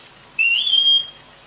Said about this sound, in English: That's his come by whistle.